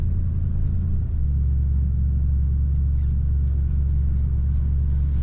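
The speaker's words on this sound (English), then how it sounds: "This car is a nice quiet idle and a good rumble when you get on" A 1968 Ford Galaxie 500 four-door sedan engine idles close by, a loud, steady deep rumble with an even low throb that barely changes.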